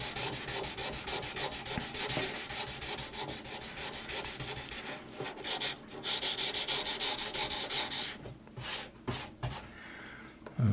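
Fine-grit 800 sandpaper rubbed over a model ship part makes close, rhythmic scratchy strokes, steady at first, then breaking into shorter separate passes near the end.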